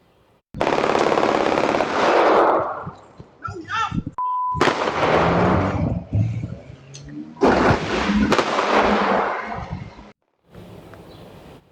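Sustained bursts of rapid gunfire in long volleys separated by brief pauses, loud and harsh, echoing outdoors on a street outside a high school, fired from a vehicle at people on the sidewalk.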